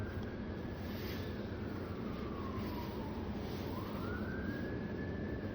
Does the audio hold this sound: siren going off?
yes